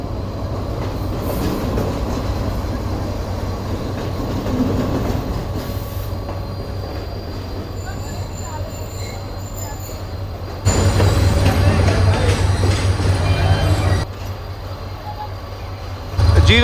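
Karakoram Express passing on the Mirpurkhas to Karachi main line, a steady low rail rumble and clatter with wheel squeal that surges loudly midway as the cars roll close by.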